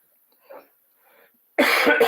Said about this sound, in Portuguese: Vontade de tossir.